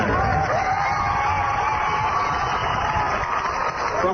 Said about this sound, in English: he was greeted by loud applause and an equally loud chorus of boos